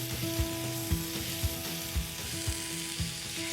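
Lamb steaks sizzling in a hot griddle pan, a loud steady frying hiss broken by regular soft thumps about every half second, close up with no voices.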